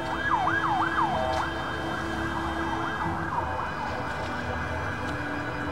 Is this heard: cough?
no